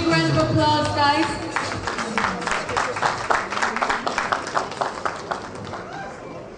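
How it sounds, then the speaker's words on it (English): Audience applause at an award ceremony for a beacon of hope honour, dense steady clapping from a large crowd that starts under a voice and continues on its own. "Big round of applause, guys."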